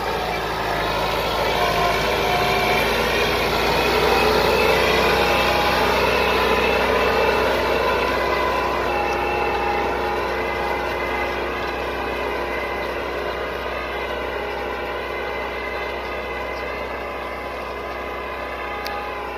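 A 2010 Massey Ferguson 385 tractor pulls an 18-plate disc harrow through a corn field, its engine droning loud and steady with a constant mechanical roar and slight rise and fall in pitch throughout.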